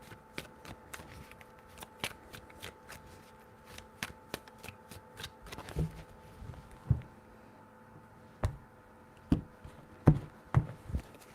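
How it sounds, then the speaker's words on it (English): Tarot cards being shuffled by hand, with a rapid run of crisp riffling taps followed by several louder, separate slaps and knocks of the deck, close and clear in a quiet room. "Three shuffles."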